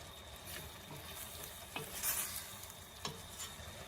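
Sem and dried shrimp curry sizzling in a pot as it is stirred, with a few scraping strokes of a utensil against the pan over a steady frying hiss.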